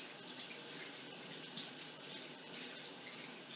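Hot water runs steadily from a tap while brushes are washed after soaping, a continuous close hiss of falling water with no talking.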